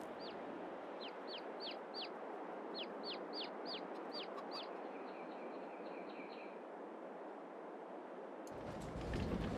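Chickens in Farming Simulator 22 make a run of short, bright chirping calls in quick clusters over a steady farmyard hiss, fairly faint, with a sudden louder rumble near the end.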